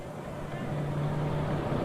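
A triple turbocharged pulling tractor engine droning steadily at a distance, a low rumble with a faint sustained whine, under crowd noise at an outdoor tractor pull.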